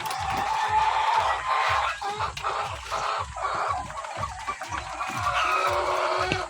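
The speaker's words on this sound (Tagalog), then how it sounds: "nakakalibang na mag-alaga ng ganito ang para itlog na mga manok" White egg-laying hens on a layer poultry farm cluck steadily in a dense, rhythmic chorus, fairly close and continuous with no talk over them.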